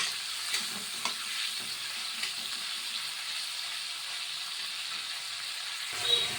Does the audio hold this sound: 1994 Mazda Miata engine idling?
no